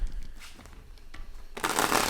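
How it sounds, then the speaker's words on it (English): Tarot cards shuffled by hand, soft riffling flicks and slides up close, ending in a louder, denser burst of card noise. "Let's get three more shuffles."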